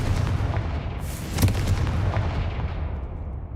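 A Confringo spell cast in the Hogwarts Legacy video game sets off a booming explosion that bursts out over a low rumbling background and then fades.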